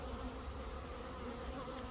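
Honeybees in a queenless hive give off a dense, continuous, close-up buzzing that holds steady throughout with no voices.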